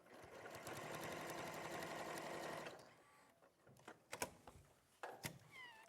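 A domestic sewing machine stitching a quilting effect runs in a fast, steady whir for nearly three seconds, then stops, followed by a few clicks and knocks as fabric is handled.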